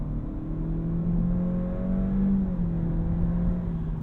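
A 2024 Honda Civic Touring with a CVT accelerating at full throttle, heard from inside the cabin as a steady, loud engine drone with a slowly rising tone and no pauses.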